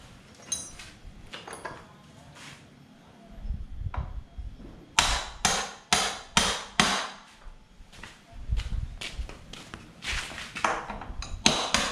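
Sharp metallic hammer strikes on a seized KLX motorcycle swingarm, ringing out in irregular bursts, some clustered in quick runs, close and loud with brief pauses between.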